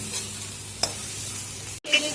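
A spoon stirs spice masala through boiled potato pieces in a pan while they fry with a soft steady sizzle, one scrape standing out before a brief gap.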